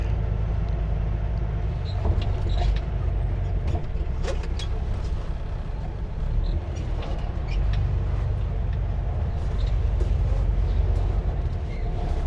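A truck idles with a steady low engine rumble while pulling forward and backing up at a bridge site in Holland, with creaks and mechanical clatter throughout. No one speaks.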